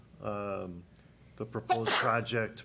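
A person sneezes once during a planning and zoning meeting, a drawn-out vocal burst that breaks into speech as talk about a proposed project continues.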